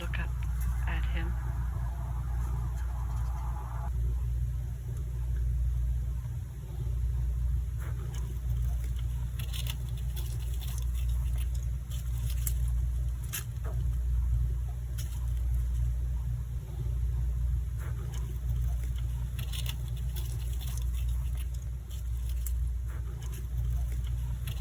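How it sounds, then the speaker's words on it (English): A steady low rumble of road traffic carries on throughout, distant and continuous, with occasional faint clicks and knocks nearby. "And we still hear that crazy traffic"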